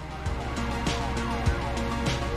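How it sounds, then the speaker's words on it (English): Police car sirens in the Bakery Simulator video game wail steadily at a moderate distance over low traffic rumble, with no talking. "Oh, I'm hearing police cars."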